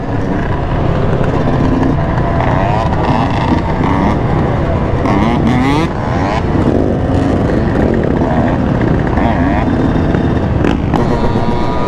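Two-stroke motorcycle engine revving hard at a large Miami ride out with hundreds of riders, loud and close with rising and falling pitch, mixed with other engines, wind buffeting and shouting voices.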